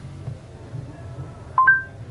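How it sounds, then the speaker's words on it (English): Dialing tones from a phone call placed through a Pioneer Android Auto car head unit: a brief pair of electronic beeps rings out over a low, steady hum in the car. "Next, we'll make a phone call."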